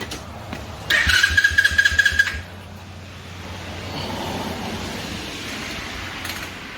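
An X-Pro 125cc dirt bike engine cranks with a rapid chattering burst, then catches and idles with a low steady rumble, lightly revved, close by.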